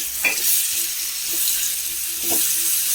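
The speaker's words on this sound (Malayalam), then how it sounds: "2 ചെറിയ സവോളയുണ്ട്, അതുകൂടെ ഇട്ട് ഒന്ന് വാട്ടി കൊടുക്കാം" Small onions and crushed coconut sauté in a pan for kadala masala, giving a soft, steady sizzle with a few brief stirring scrapes, heard alone and close.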